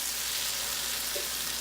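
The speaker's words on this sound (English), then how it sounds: "our turkey bacon, along with our onions and garlic and tomatoes, is starting to sizzle a little bit" Turkey bacon, onions, garlic and tomatoes sizzling in a pan, a steady, close frying hiss with faint crackles throughout.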